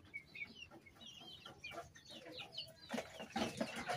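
Hens cluck and chatter in a farmyard pen in Pangasinan, with several birds giving overlapping calls. The sound is quiet and busy, then louder and closer toward the end.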